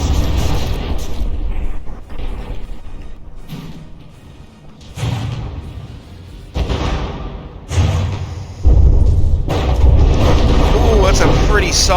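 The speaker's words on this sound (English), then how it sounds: "Pretty solid volley of mortar shells too." Heavy explosions from a volley of mortar shells in the naval combat game From the Depths, a battleship tournament match; several deep booming thuds land in bursts across the stretch, loud and close, with a voice talking over them.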